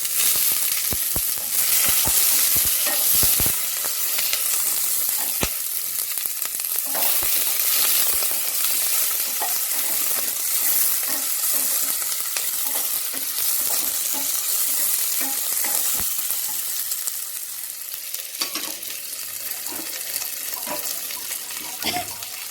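Onions and green chillies sizzle loudly in hot oil with cashews for pulao, with steady frying hiss and repeated stirring scrapes and knocks throughout, no talking.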